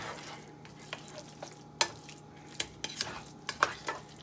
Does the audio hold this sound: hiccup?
no